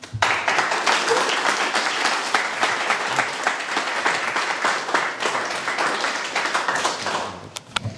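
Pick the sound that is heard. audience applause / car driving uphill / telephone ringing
audience applause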